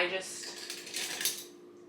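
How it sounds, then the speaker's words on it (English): Real metal silverware clinks and scrapes close up against dishes, with quick overlapping taps and rattles that rise and fall over a couple of seconds. "So we bring our own silverware."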